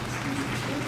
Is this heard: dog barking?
no